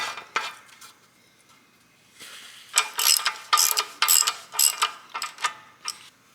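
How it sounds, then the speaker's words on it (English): Rapid ratcheting clicks come in bursts as a socket tool tightens an oil filter on a SAAB 9-3 V6, close and crisp, with quieter clicking first and louder, faster runs after a short pause. "So we can put back the oil filter in place and tighten the filter."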